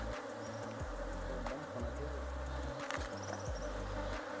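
Honey bees buzz steadily around an opened beehive during a hive inspection, a dense continuous drone close by, with low thumps and handling noises layered underneath and no talk.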